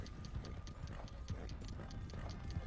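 Horse hooves clip-clop in Red Dead Redemption 2 Online, a steady trotting rhythm of close, even hoofbeats over a dense game soundscape with a low rumble beneath.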